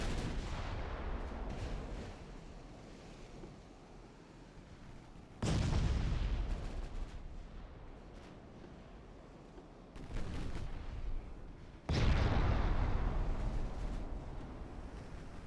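Heavy naval guns fire in a long-range artillery duel in Ultimate Admiral: Dreadnoughts, with three loud booming salvos at about 5, 10 and 12 seconds, each trailing into rumbling echoes over continuous low battle noise.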